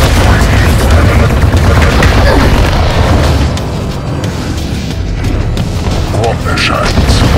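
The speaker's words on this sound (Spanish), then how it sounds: "Me voy a cambiar el arma de escopeta" Booming shotgun blasts in the video game Quake rumble loud and dense over constant game noise while a person talks throughout.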